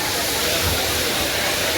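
Savdav waterfall in the Konkan region during the rain roars as a loud, constant wash of rushing water that fills the whole moment, with faint crowd murmur beneath.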